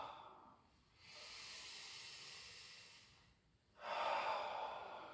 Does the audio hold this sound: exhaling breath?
yes